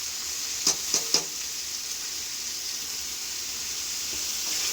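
Potatoes and onion fry in a pan with a steady, close hiss of sizzling oil and a few quick clinks of a utensil near the start.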